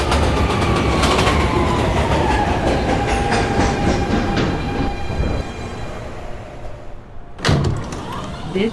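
A video-game New York City subway train, a Manhattan-bound 3 shuttle, rumbles and clatters loudly with a fading whine. It slows and quiets before a sharp door-like clunk near the end.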